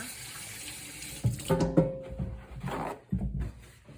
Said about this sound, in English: I'm going to wash my hands real quick